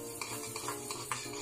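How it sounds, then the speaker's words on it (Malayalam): Moong dal roasts in a dry pan with a brief run of scraping stirs. Dry grains rustle and a utensil clicks against the metal in a close, continuous rhythm. "അതിലേക്ക് നമ്മൾ ഈ ചെറുപരിപ്പ് ഇതൊന്ന് ബ്രൗൺ കളറാവുമ്പോൾ നമുക്ക് ഓഫാക്കാം."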